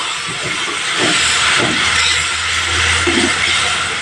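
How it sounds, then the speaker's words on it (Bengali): Spices sizzle and hiss steadily in a hot pan for a potato and eggplant curry, a loud continuous frying noise with a low hum beneath it. "প্রত্যেকটা মশলা ভালোভাবে আমাকে কষিয়ে নিতে হবে।"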